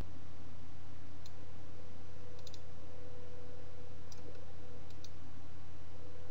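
A handful of soft, sharp computer mouse clicks, some in quick pairs, over a steady low electrical hum; no one speaks.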